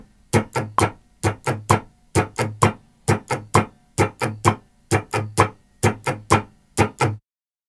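An acoustic guitar plays a boom-chicka strumming pattern along to a click, sounding as crisp, rhythmic pairs of strums in a steady groove, close and alone with no voice.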